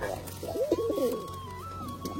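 A pair of foreign pigeons coos in a wavering, throaty run close by, with a steady low hum underneath and a faint whistling tone drifting above.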